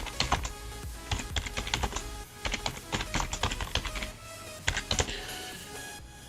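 Fast typing on a computer keyboard at close range, with bursts of sharp key clicks in uneven rhythm and brief gaps between runs of keystrokes.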